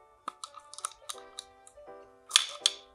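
Metal clicks and clacks as a Wera Joker ratcheting wrench slips off the fastener while being turned, a quick irregular series of sharp close taps with a louder cluster near the end, with no speech.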